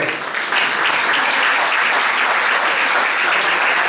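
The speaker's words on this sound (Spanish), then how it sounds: "un fuerte aplauso para Jesús" Strong, dense applause fills a church during a Holy Thursday homily, loud and sustained without a break for the full length, no voices standing out above the clapping.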